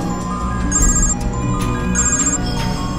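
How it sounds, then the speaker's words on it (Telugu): A telephone rings loudly and close by in an electronic ringtone, repeating bursts over a constant tone, heard alone without talking. "ఆడి ఫోన్కి డిఎస్పీ ఫోన్ చేస్తున్నాడు అన్నా"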